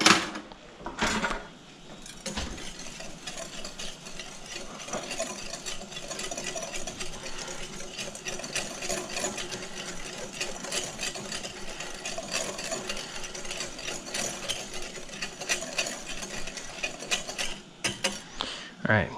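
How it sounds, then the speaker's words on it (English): Dry ingredients with baking powder being whisked for lemon bars, a steady scratchy rattling of whisk against bowl running continuously at close range, with a brief pause near the end. "we're going to whisk these to homogeneous"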